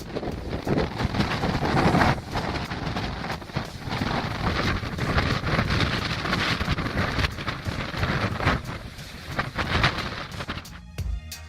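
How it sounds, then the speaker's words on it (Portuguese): Strong wind at about 136 km/h roars and buffets loudly and continuously. It rises in heavy gusts with rumbling noise from the wind striking the microphone. "mesmo com um vento a uma velocidade de 136 km por hora"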